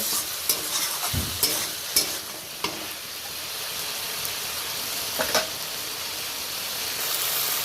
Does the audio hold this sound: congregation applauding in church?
no